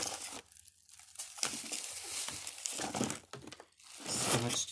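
Scotch tape crinkles and tears in bursts of close crackling and ripping, irregular and fairly loud, with no talking.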